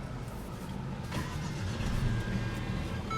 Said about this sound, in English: what you're hearing there is a 2-liter turbocharged 4-cylinder